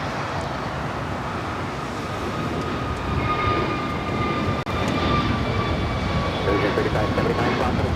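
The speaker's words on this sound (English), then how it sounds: "This is American Airlines 2833 taking off to Dallas Fort Worth on the A321neo" An American Airlines A321neo jet takes off at LAX, a broad steady roar with faint high whine holding level throughout, with a brief dropout near the middle and a voice talking under it.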